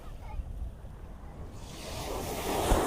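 Sea waves wash up at Girgaon Chowpatty beach in Mumbai at night. The surf swells from a soft wash into a louder rushing surge, with wind noise and a faint crowd murmur in the background.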